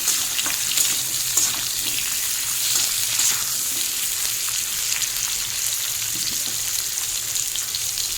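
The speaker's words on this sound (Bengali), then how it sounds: "আলু দেওয়ার পর এখন এই খুন্তিটা দিয়ে আমি ভাজবো" Cut potatoes sizzle steadily in a hot pan while a spatula stirs them now and then, a continuous bright crackle with faint scraping taps close by and no talking.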